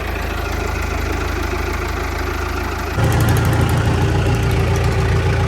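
A farm tractor idles in a field before ploughing, a loud, close, steady engine drone that jumps up in volume and roughness partway through as the revs rise.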